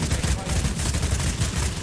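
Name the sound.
gunfire in a video game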